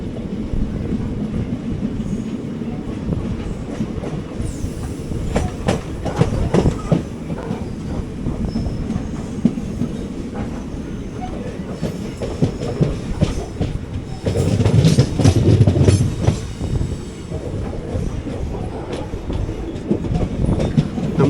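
Nagercoil Express 17235 rolling into Kochuveli station on a loop line toward platform 1, a steady rumbling train ride with rhythmic wheel clatter over rail joints, louder surges of clanking and squeal midway, no voices.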